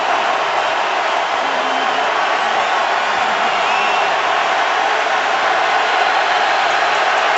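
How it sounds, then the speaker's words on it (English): A San Francisco 49ers home stadium crowd roaring during a football game against Seattle, a loud, continuous wash of cheering and whooping heard from a distance. "their San Francisco crowd going crazy"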